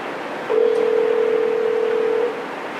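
A single steady telephone tone sounds clearly for about two seconds on a conference call line, over a faint background hiss, then cuts off abruptly.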